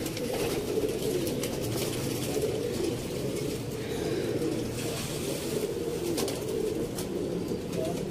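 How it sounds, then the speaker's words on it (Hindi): Golden pigeons of a Sialkot pigeon-fancier bloodline cooing steadily at close range, a continuous low murmur of overlapping coos with faint background noise throughout. "मियां नज़ीर ब्लड लाइन च दोस्तों गोल्डन कबूतर"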